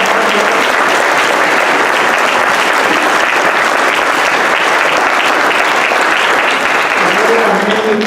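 Audience applause at a 2018 candidate forum rings out as a dense, sustained round of clapping from a sizable crowd, loud and even, with a few voices faintly mixed in.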